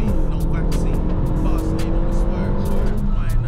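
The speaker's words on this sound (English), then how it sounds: "Rev match to third." Close, loud engine of a Renault Sport Megane Cup 250 in a rev-matched downshift to third, a steady drone with a quick rise in revs, heard from inside the car while driving.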